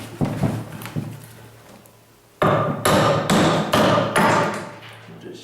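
An axe hews wood to shape a primitive bow, giving a few duller blows and then a run of loud, sharp, evenly spaced chops close by, each with a woody crack.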